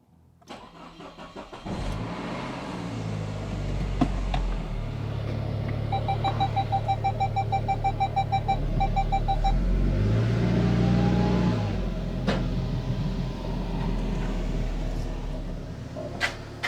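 A Saab 9-5 estate Aero cranks and starts, then idles and revs steadily as it is driven out of a garage, with a regular beeping chime for a few seconds and a louder surge of engine near the middle.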